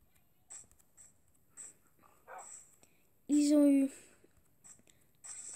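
A video game fox makes short soft dog-like yips and whines in a loose series, with one louder, longer bark-like cry in the middle.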